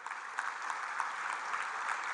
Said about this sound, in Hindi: एक बार जोर से ताली हो जाए।